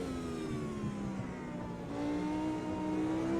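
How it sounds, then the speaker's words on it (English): Race car engine in the Automobilista 2 VR racing game, a steady sustained whine with rising pitch as the car accelerates and revs, loud and continuous without talk. "the engine sound in this sounds nice"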